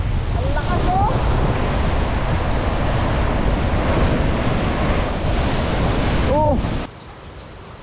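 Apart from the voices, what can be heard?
strong sea waves and wind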